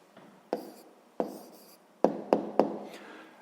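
A pen writes out a math answer on paper, giving a few soft scratching strokes broken by five sharp taps as the pen touches down, close and fairly quiet with no talking.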